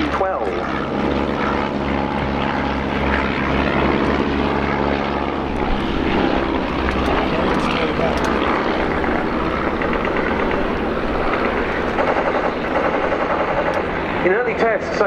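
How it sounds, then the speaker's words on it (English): A BE-2C biplane trailing smoke at the RIAT 2018 air show, its propeller engine droning steadily and fairly loud for the whole stretch, with a voice heard at times over it. "the aircraft now trailing smoke off to the right as it runs in"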